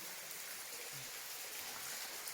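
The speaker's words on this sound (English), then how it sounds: "There's our waterfall." Waterfall flowing near a slate mine, a steady broad hiss of falling water, continuous and moderately distant, with no speech over it.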